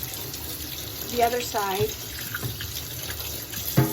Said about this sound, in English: flip it upside down and run water through the holes